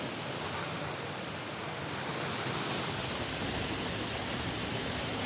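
Steady, dense rush of a waterfall in Pembrokeshire, a muddy spot where one can walk underneath the falling water, heard close as an unbroken broadband roar with no voices.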